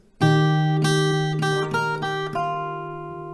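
The C part of a song on acoustic guitar: ringing plucked notes on open strings, a few picked notes in succession left to sustain and fade, close and clear with no talking.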